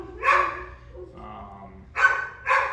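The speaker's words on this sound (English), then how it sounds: "These dogs are just happening." Dogs barking close by indoors, a few sharp barks in two bursts with a short whimpering gap between them.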